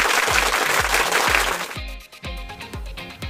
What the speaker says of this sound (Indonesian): Hore, beri tepuk tangan.